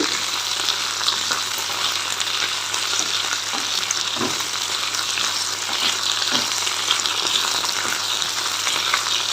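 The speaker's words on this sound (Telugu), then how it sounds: "ఇట్లా వేపుకుంటే మనకు జిగురు ఉండదు" Okra (bhindi) frying in a pan for a spicy onion-chilli okra dish gives a steady, close, fairly loud sizzle, with occasional soft stirring knocks and no voices.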